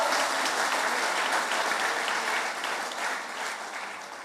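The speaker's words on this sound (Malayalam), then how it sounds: "ഈ 10 പേർക്ക് നല്ല കൈയടി കൊടുത്ത മക്കളെ" Dense audience applause in a church hall at a couples day celebration, continuous clapping from many people throughout, gradually easing toward the end.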